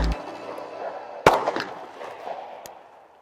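A single sharp report from a Springfield XD-S Mod 2.0 .45 ACP pistol with a 3.3-inch barrel cracks out midway, loud and close, trailing into a short decaying echo, with a second faint pop near the end.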